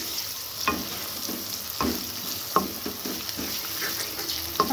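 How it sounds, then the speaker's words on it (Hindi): Tomatoes sautéing in a pan over a medium flame with a steady soft sizzle, punctuated by several distinct scraping stirs of a spoon, close and with no one talking. "इसको हम हल्का सा सौते करेंगे"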